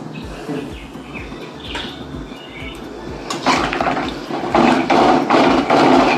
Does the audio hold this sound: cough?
no